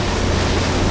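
A motorboat moves across open water on a hot day, with steady broadband rushing of water and wind and a low engine rumble underneath, loud and continuous with no speech.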